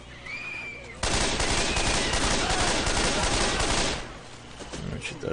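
Sustained automatic gunfire in the Left 4 Dead 2 video game, a dense, loud burst of rapid shots lasting about three seconds before fading into background game noise.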